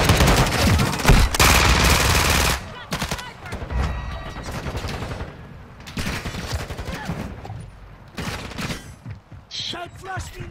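Rapid bursts of automatic gunfire and explosions crackle in a Shipment match of a first-person shooter, loud and dense at first, then in choppier volleys with brief gaps.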